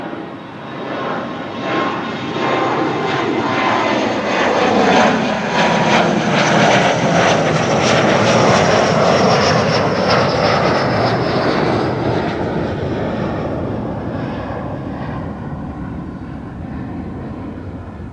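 Wide-body jet airliners depart Schiphol's runway 24, a deep engine roar that builds, swells to a loud peak midway, then slowly recedes into a fading rumble.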